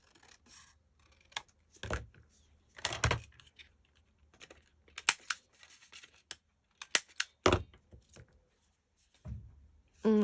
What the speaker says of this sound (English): I hate to cut these down, but I'm gonna.